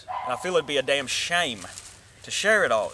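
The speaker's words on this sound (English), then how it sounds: "there's some dogs raising hell in the background" Dogs barking and yipping outdoors in the background, several sharp calls heard under a man's close, steady speech.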